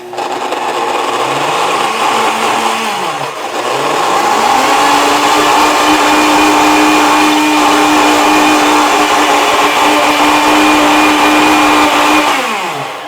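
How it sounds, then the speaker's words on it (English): Blender pureeing hard-boiled eggs with nut oil for dairy-free protein waffle batter, a loud steady motor whine that rises and shifts pitch as it spins up, holds, and winds down. "I'm going to put the cover on and blend it on up."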